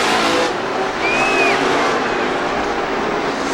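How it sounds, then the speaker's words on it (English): Field of short-track stock cars at Rockford Speedway taking the green flag with three laps to go, a dense, steady engine roar throughout with a brief high whine partway through. "here comes the field. 3 laps to go. Green flag, and we're racing."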